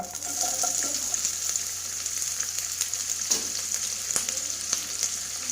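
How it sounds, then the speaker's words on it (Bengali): Chopped onion sizzling in hot oil in a wok, a steady crackling fry with scattered sharp pops throughout, close and fairly quiet, with no talking. "কড়াইতে তেল নিয়ে নিয়েছি, তেলটা গরম হয়ে এসেছে। এবার দিয়ে দেবো কিছু পেঁয়াজ কুচি"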